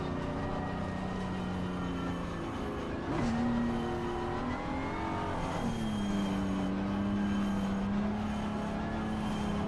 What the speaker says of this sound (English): I don't like scrubbing the tyres like this